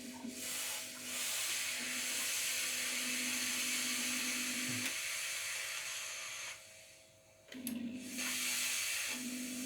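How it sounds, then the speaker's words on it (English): A Vax steamer runs steam through a vinegar solution, giving a steady, loud hiss with a faint mechanical hum, briefly dropping away before the hissing resumes. "we just run the steam through the vinegar solution"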